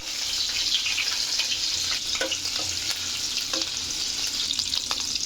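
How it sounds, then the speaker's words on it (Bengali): Prawns fry in hot oil in a pan, a steady, dense sizzle with crackling and occasional stirring scrapes, close and continuous with no talk. "একটু ভাজা হইতে দেবো।"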